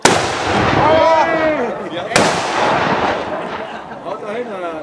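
Two loud cannon shots boom in succession at a Hagelberg battle reenactment, each followed by a rolling echo, with people shouting in German over the noise.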